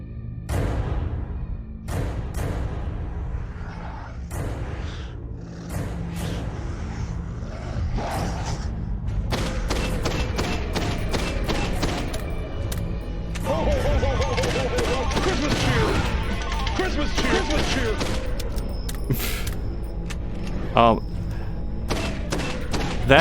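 Rapid gunfire from shooting zombies in a bad horror video game, with dense bursts of sharp shots that thicken into a steady fusillade over game noise, a voice talking in places.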